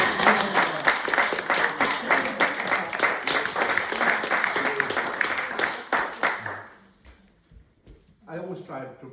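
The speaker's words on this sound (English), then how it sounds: "You can applaud" An audience applauds loudly for about six seconds in a dense, even patter, then the clapping cuts off abruptly and a faint voice follows in a quieter room.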